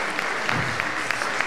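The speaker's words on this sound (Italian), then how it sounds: "ancora un applauso" An audience claps at an anniversary commemoration of Scanderbeg in Rionero and Barile, an even, sustained patter of applause from a crowd, moderately loud with no pauses, lasting about a second and a half.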